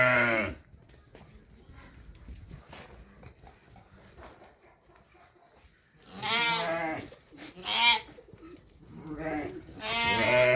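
Pregnant ewes at a farm in Namangan, Uzbekistan, bleating loudly and close in several overlapping calls after a stretch of quieter farmyard background.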